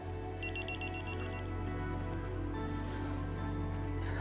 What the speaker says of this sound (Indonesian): Kayaknya Mas Yoga selama aku menghindar nggak akan berhenti deh telepon aku